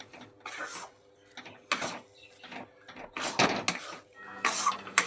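Ground fennel and other spices are stirred into a thick green-pea paste in a pan, making uneven bursts of scraping and metal clatter with quiet gaps between them.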